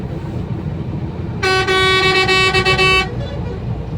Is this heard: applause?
no